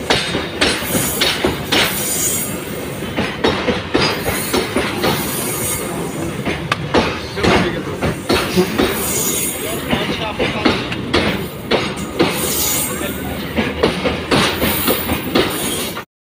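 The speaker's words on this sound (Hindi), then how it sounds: "हमारा वंदे भारत ट्रेन ऑलरेडी इधर रेडी है" A Vande Bharat Express train on the Delhi–Jaipur route rumbles loudly and continuously, with repeated clanking wheel beats, metallic squeals and rattling carriages running close by for the whole stretch.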